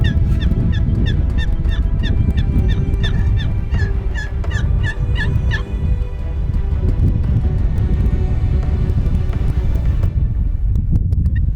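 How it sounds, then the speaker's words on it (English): Wild turkeys call in rapid repeated yelps during a hunt, a loud rhythmic series of sharp notes for the first half, then fading into steady background noise. "Now it's clear this girl's there looking for the other hen that was doing all that yelping"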